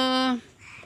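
A short, bright whistled call from a myna bird, with strong harmonics, followed by faint chattering sounds, close by.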